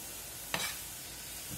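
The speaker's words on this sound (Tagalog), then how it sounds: "Ito, ginigisa ko siya ulit." Vegetables for lumpia filling are sautéed in a pan, giving a single brief stir-and-sizzle burst followed by a quiet low hiss.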